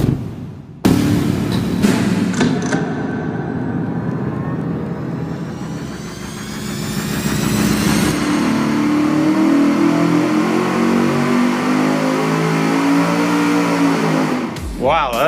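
An engine breathing through a $26.99 Walker Turbo muffler snaps to life and revs hard, climbing loudly and holding near full throttle for several seconds before cutting off; a voice talks briefly early on.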